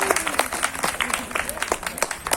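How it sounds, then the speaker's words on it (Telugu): Applause rises from a village crowd for the prize winners of a Sankranti rangoli contest, with steady scattered clapping under a voice talking over a loudspeaker. "అందరూ గట్టిగా చప్పట్లు కొట్టాలి"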